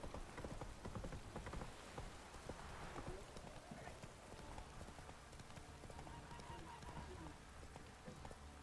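Roach, the horse in the video game The Witcher 3, gallops through a heavy downpour: rapid clip-clop hoofbeats under a dense hiss of rain, with a faint whinny and a brief voice, quiet overall.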